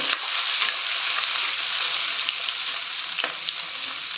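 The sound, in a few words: ginger and garlic frying in a pan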